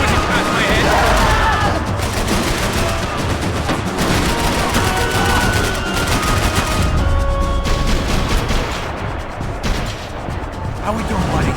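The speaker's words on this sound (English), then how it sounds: "I can't concentrate with bullets whizzing past my head!" Dense gunfire fills a Max Payne 3 firefight, with overlapping rapid shots and bursts running continuously at close range, bullets whizzing through, and voices talking over the din throughout.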